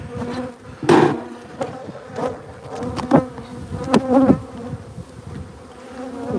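Bees crowd around the top of a hive, their buzzing a close, wavering drone broken by several loud thumps and knocks of hive equipment being handled.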